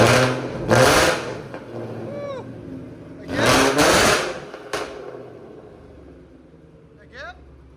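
A 2017 Ford Mustang GT 5.0L V8 fitted with headers and a Borla ATAK exhaust is revved twice, each a loud, close rasping blip that falls back to a burbling idle, with a faint shorter rev near the end.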